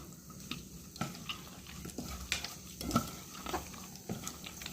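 Wet squelching and scraping of a spoon mashing tomatoes in a pot, steady and close, with a light sizzle underneath.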